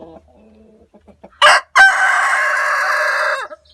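A rooster crows loudly once, a long sustained call after a short rising start, with faint clucking before it.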